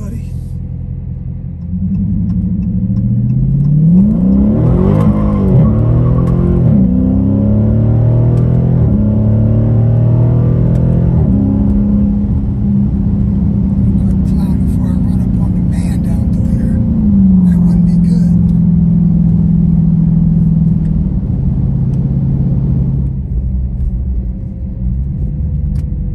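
A car engine hums and rumbles steadily while driving, rising and falling in pitch as it shifts through gears, loud and close from inside the cabin, with someone talking over it at points.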